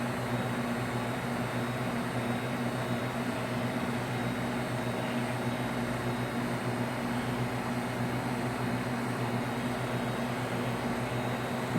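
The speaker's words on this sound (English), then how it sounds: "So now the refrigeration compressor will kick on and start to cool this down." Steady, even mechanical hum of a Neslab Thermoflex 1400 chiller running with its refrigeration compressor on, a constant drone with tonal whine and fan-like noise, close and unchanging, no talk.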